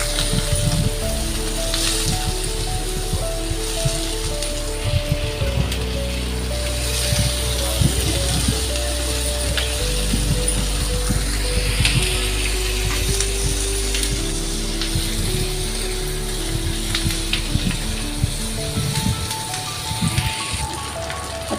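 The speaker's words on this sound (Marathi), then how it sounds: "कांदा आणि शिमला मिरची आणि हे चांगलं मस्त असं परतून घेऊया." Onion and capsicum sauté in a hot pan for a soybean chilli, a continuous crackling sizzle with occasional stirring clatter throughout.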